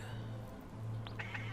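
A cat's meow from the video game Gato Roboto, a short, clear, close cry rising in pitch over a steady low electronic hum from the game.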